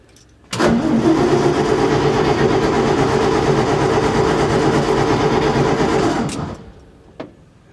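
A wrecker truck's engine cranks with the ignition on, a loud, steady starter grind that runs for about six seconds without catching, then cuts off, followed by a faint click.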